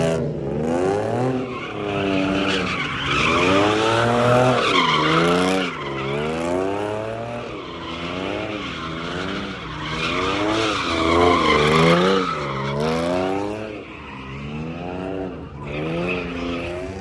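At a car meet in Charlotte, car tires spin and skid continuously with a loud, wavering squeal and a roaring engine that rises and falls in repeated sweeps for about seventeen seconds, close by and with crowd noise underneath.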